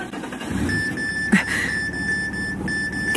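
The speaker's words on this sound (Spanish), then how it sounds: "¿La alarma antiincendios?" A fire alarm goes off in a house, giving a steady high electronic beep with repeated pulses that runs continuously over low background noise.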